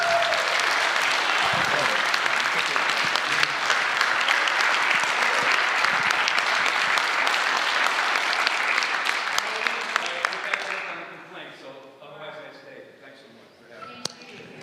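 A live audience at a foundation event breaks into loud, sustained applause that dies away after about ten seconds, leaving scattered claps and murmuring voices.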